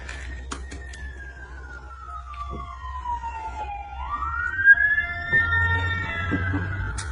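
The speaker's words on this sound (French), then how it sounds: "Il y a les ambulances qui vont passer." An ambulance siren passes along a street in the United States, sweeping down and back up in pitch and growing louder, over low traffic rumble.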